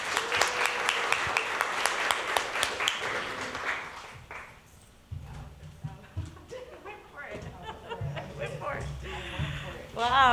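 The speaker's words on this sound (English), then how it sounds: "Let's give an applause for Tisina." An audience at a Two Spirit artist showcase breaks into brisk applause that fades after a few seconds. Talk and scattered noises follow.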